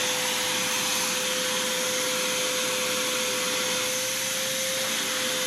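A Porter Cable 1-gallon, 1.5 peak HP wet/dry shop vacuum, model PCX18125P, sucks up sawdust with a loud, unbroken whooshing roar and a steady high whine, heard alone from start to finish.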